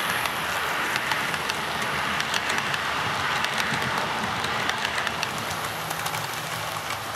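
A small model train passing platforms on a layout rattles and clicks along the track steadily, with a continuous whirring motor and frequent light metallic ticks.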